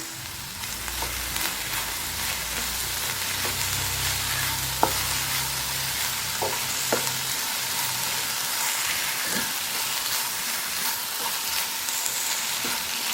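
Finely chopped garlic fries uncovered in an open pan, a steady crackling sizzle punctuated by sparse clicks of a spoon, close and even throughout, no talking.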